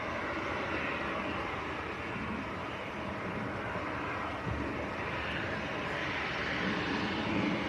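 A TUI airliner arriving at Manchester Airport in crosswinds gives a steady, distant jet roar that swells slightly and stays broad and rumbling throughout, with no voices.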